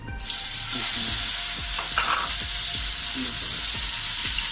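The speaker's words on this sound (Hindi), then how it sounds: "हमारा घी जो है वो गर्म हो गया, मैं इसके अंदर डालता हूँ" Ingredients for sheer khurma drop into hot ghee and fry with a loud, dense, steady sizzle, while faint rhythmic stirring taps run underneath and no one speaks.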